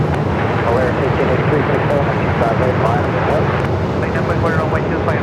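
An America West Airbus A320 airliner takes off from Runway 25 Right at Phoenix Sky Harbor Airport, a loud, steady broadband jet roar that fills the whole clip, with a voice faintly underneath.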